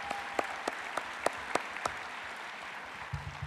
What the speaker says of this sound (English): I want to give a warm round of applause to my predecessor, Bill McCarthy